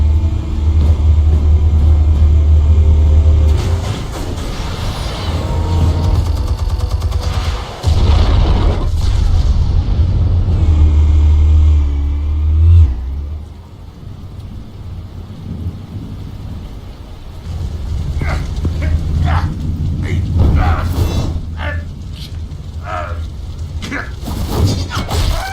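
Explosives detonating in the Batman: The Telltale Series game, heavy loud booming rumbles and crashing debris with a deep sustained low roar, then scattered cracks and clatter, with a voice briefly speaking.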